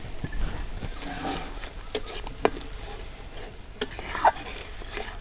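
A spice paste, seasoned with a little sugar, being sautéed and stirred in a pan for a mustard drumstick chorchori, with a soft sizzle and scraping spatula strokes. Occasional sharp clicks of metal sound close by, with no talk.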